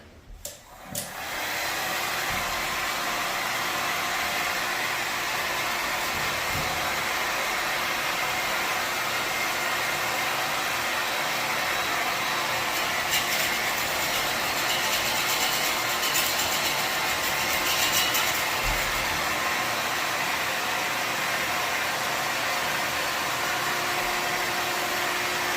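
An electric floor scraper stripping old floor covering runs as a loud, continuous whining, rushing drone after a brief start, holding steady for about twenty-five seconds with no voices.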